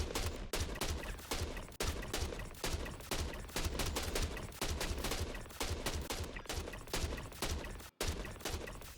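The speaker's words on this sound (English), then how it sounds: "You can just murder them all there with your rifle." Rapid rifle fire in the video game Star Citizen 4.0, a dense, loud burst of sustained automatic shots with only a couple of short gaps, no talking.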